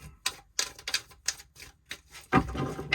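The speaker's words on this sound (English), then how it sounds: "I'm gonna do one more shuffle." Rapid papery riffling of a tarot card shuffle, several short bursts in quick succession, then a louder, denser flurry of snapping cards near the end.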